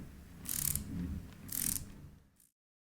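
Two bursts of ratcheting clicks from a hand tool closing up and torquing a screw to 7 Nm on a CTS mountain bike shock, heard close with a low background rumble and no talk.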